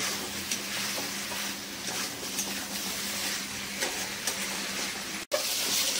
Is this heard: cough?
no